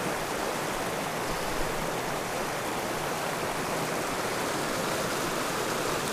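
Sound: River White Line, flowing river water

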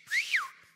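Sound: wolf whistle imitated by a man

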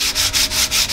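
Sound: sanding a table with wet sandpaper

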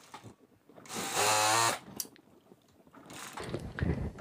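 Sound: sewing machine stitching fabric

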